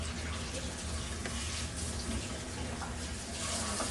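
Tap water runs steadily into a salon shampoo bowl while hair is rinsed, a continuous close hiss and splash with faint irregular spatters and no talking.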